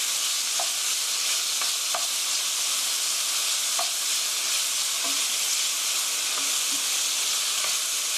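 Pork sizzles and crackles steadily in a hot pan as it is stir-fried for a kimchi dish, with a loud continuous hiss and occasional scraping stirs.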